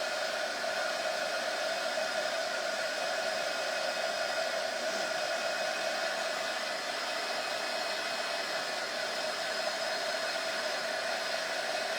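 A hair dryer blows steadily on a mat for a quick dry, a constant airy whoosh with a faint tonal whine, moderately close and unchanging throughout, with no voices.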